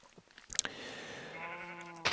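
A Minecraft sheep lets out a single wavering bleat that starts after a soft click and holds for over a second, fairly quiet and alone.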